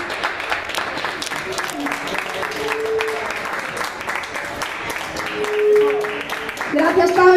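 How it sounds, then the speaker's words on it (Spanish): Concert audience at Underfest in Alcalá de Henares applauding for Pablo, a dense wash of many hands clapping at steady loudness that swells near the end, with voices and some tonal sound mixed underneath. "Un aplauso grande para él."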